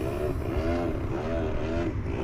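A Rage RC F4U Corsair micro radio-controlled plane at full throttle, with a steady buzzing electric propeller whine that rises and falls slightly as it passes, fairly near, no talk.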